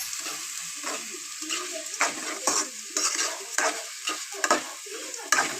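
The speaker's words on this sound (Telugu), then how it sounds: "ఇలా వేయించుకోవాలి." Food frying and being stirred in a pan, with a steady hiss of sizzling oil broken by repeated scraping and clinking strokes of a utensil against the pan, close and fairly loud, no talking.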